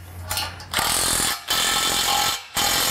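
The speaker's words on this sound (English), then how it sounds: "So I'm using a good old drill here, which is going to make things nice and quick." A power drill cranking bolts tight while assembling an Iron Edge Matrix frame, with loud whirring bursts that ratchet and rise, then stop briefly and start again, three runs in a row, close and alone.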